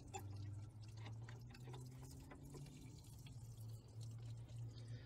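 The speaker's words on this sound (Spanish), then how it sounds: "Vamos a soltar la tapadera del rallador para que suelte el agua completamente." Water draining out of a car radiator after the radiator cap is loosened, a steady close trickle and splash running continuously with a low hum underneath.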